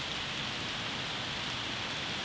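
Steady rain pours outdoors where dogs are being walked, a dense, even hiss that stays constant throughout with no voices.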